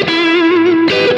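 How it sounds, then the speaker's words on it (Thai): A Fender Stratocaster electric guitar played through a distortion effect rings out as a loud, sustained, gritty note, then a second distorted note is struck just before the end. "เสียงแตก เนาะ"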